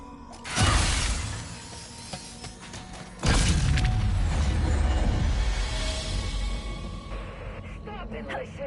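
Safety glass shattering in the video game Ratchet & Clank: Rift Apart, two loud crashing bursts with booming impacts followed by tinkling debris and mechanical game sounds.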